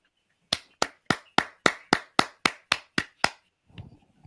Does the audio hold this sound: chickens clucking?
no